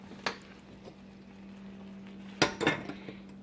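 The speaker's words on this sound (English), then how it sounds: "now we're going to put a lid on it" A metal lid is set onto a pot of simple syrup on the stove, with a soft clink and then a couple of sharper rattling clatters against the rim over a low steady hum.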